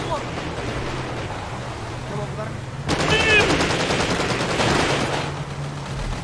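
Rapid gunfire in GTA V roleplay, a dense burst of shots aimed at the ground, loud and close for a few seconds mid-stretch, with continuous game background noise throughout.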